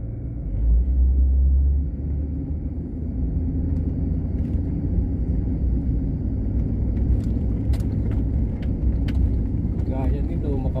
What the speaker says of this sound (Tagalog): Hirap na naman yung mga sasakyan nito pag mga ganitong panahon.